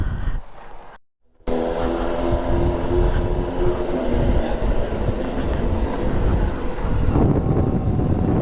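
Motorcycle ride in Dubai with loud buffeting wind noise over engine and road rumble, continuous after a brief dropout near the start, heard close to the microphone.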